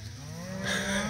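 A good-sized calf in a cattle mob grazing a cocklebur field lets out one short moo, close and alone.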